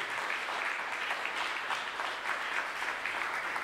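An audience applauds on stage at a celebration for cyclists Giuseppe Saronni and Beppe Conti, a steady, dense clapping that carries on without a break.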